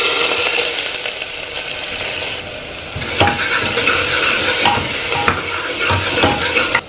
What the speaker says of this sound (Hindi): प्याज को थोड़ी देर भूनना है।